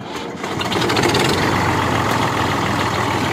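A tractor engine starts up in a village and settles into a loud, steady, low diesel rumble with a rattling idle, close by and with no talk.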